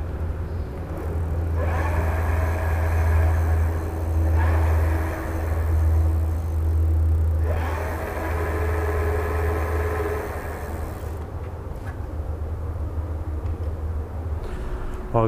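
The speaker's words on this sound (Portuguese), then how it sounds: "agora eu vou fazer um teste aqui no acelerador para vocês verem a roda girando" An electric bicycle's rear wheel spins freely on the throttle, making a steady whirring motor hum that rises and falls in a few surges, with a person talking in between.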